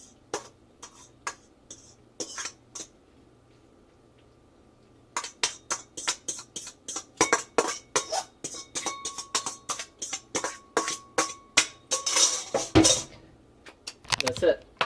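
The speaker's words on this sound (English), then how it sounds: "we'll make it more presentable by transferring it into a wood bowl" Quick clinks and knocks of noodles and utensils being moved into a wooden bowl, a few sparse taps at first, then a busy run of rapid clattering strikes that builds toward a louder scrape near the end.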